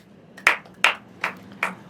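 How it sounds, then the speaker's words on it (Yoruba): Four sharp, evenly spaced claps from children applauding themselves on a game show, each loud and crisp, with no talking. "ẹ káre la ẹ pàtẹ́wọ́ fúnra yín"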